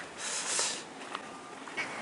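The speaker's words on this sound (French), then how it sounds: "Il y a des moutons, des oiseaux, des canards, des oies" Ducks quacking by the grassy town ramparts of a fortified French town, several short close calls in a quick irregular series with a light outdoor background.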